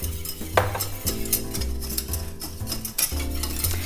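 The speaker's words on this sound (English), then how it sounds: "The butter has melted, so I am going to whisk in 2 tablespoons of flour." A whisk stirs flour into melted butter in a medium pot, making close scraping and tapping sounds against the metal over a soft sizzle, with a faint musical background.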